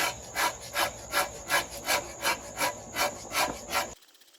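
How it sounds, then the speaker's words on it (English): A rasp files a wooden bow stave in about eleven even, rhythmic rubbing strokes, close and clear, before stopping abruptly. "So just get it down to the line with the rasp on all the sides."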